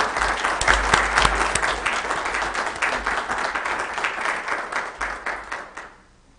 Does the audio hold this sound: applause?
yes